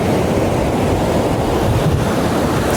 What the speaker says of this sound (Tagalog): now, malakas yung alon.